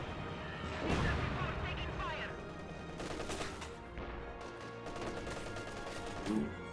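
Gunfire in the World War II strategy game Company of Heroes 2, with rounds striking a telegraph pole: continuous distant rattling shots and booms forming a steady battle din, mixed under background game noise.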